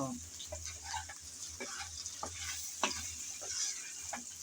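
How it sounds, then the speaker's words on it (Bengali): Potato and aubergine are stir-fried together in a pan, with a steady oily sizzle and repeated clatter and scrape of a spatula, no talk. "এখন আলু আর বেগুন একসাথে আবারও নেড়ে চেড়ে ভেজে নেব"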